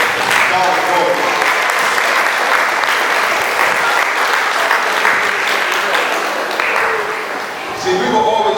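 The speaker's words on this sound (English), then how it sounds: "Give yourselves a round of applause for today" A convention audience at the SBPM 1st Annual Convention breaks into loud, dense, sustained applause that fills the room steadily for several seconds, briefly dipping before a voice cuts in near the end.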